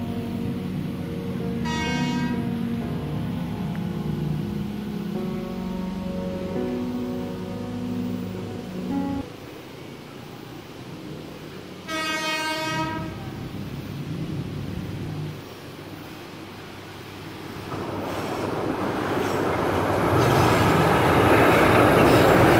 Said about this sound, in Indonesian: Persiapan KAIS 3 melewati jembatan